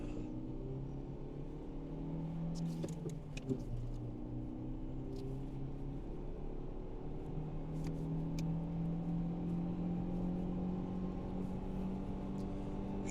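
A 2012 Renault Clio with a 1.2 petrol engine driving and turning, a low steady engine hum heard from inside the cabin, with faint road noise and a few light knocks.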